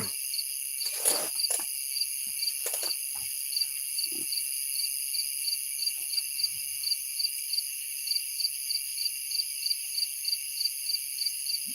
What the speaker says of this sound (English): we got the crickets a chirping, got the tree frogs in the distance